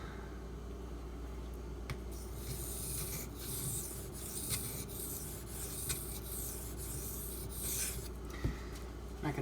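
Knife blade sharpened by hand on a Sharpening Supplies water stone, a steady close scraping rasp with repeated strokes running continuously.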